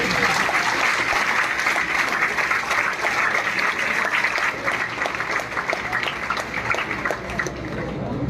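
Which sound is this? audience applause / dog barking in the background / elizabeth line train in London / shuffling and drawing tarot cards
audience applause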